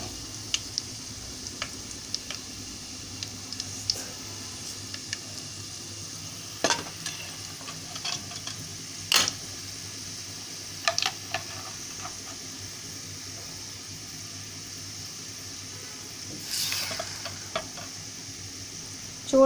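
Tempering for homemade tomato pickle sizzles in a pan with a steady soft hiss, broken by occasional clinks and scrapes of a spoon stirring it, close and fairly quiet.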